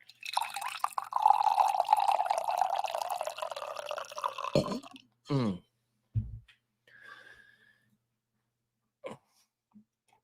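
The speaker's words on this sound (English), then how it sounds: "All right, and now the coffee pour." Coffee pours into a cup with a steady liquid trickle lasting several seconds, then a few short drips and clinks follow in a quiet room.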